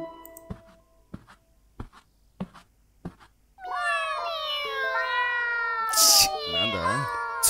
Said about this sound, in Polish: Czyżby koty miały ruje?